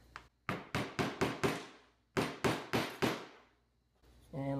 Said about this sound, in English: And let's go ahead and get these tapped in.